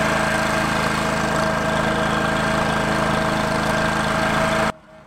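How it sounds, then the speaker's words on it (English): A small mini skid steer engine drones steadily and loudly up close while augering post holes for a post-frame barn foundation, then cuts off abruptly near the end. "So we used this little mini skid steer to auger the holes for the columns"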